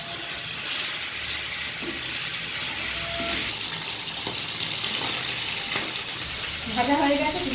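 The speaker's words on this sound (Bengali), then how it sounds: "মাছের কাঁটাগুলো আমি উল্টে নেব।" Bhetki fish bones frying in mustard oil in a kadai crackle and sizzle steadily up close as they are turned, with a few utensil scrapes and a brief voice at the end.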